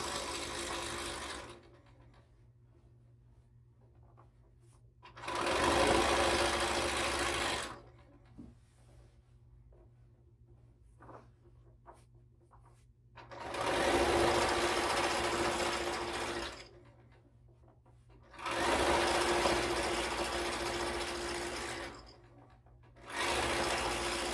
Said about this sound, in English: when you're doing your quilting on just a standard machine